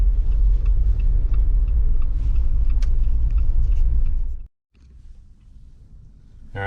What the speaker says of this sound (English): the tires are hella cupped. So it's just droning like a motherfucker